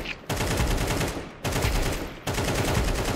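Three loud bursts of rapid gunfire from Counter-Strike 2, each a sustained rattling volley separated by brief gaps, close and dominant with no talking.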